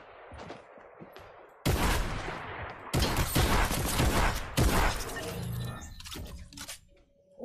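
Loud bursts of automatic gunfire crackle in the video game Fortnite, several dense volleys separated by brief pauses, with quieter clicks and game sounds in between.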